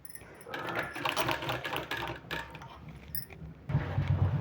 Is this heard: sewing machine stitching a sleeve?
yes